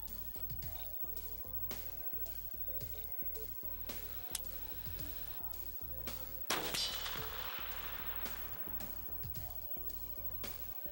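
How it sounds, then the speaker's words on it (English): A single muzzleloader rifle shot rings out at a 500-yard range, one sharp report with a ringing decay standing out against quiet background clatter and clicks. "500-yard muzzleloader shot"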